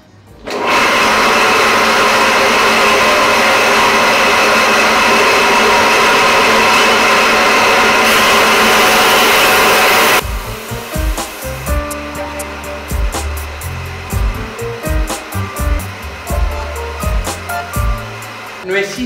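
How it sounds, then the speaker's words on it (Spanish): Homemade cutting machine built from angle iron and scrap iron, fitted with a diamond-edged blade, whines loudly and steadily as it cuts quartz stone for about ten seconds, then stops, leaving scattered clanks and handling noises. "Y esto es una máquina casera, hecha con ángulo, pedazos de hierro, la máquina con que trabaja."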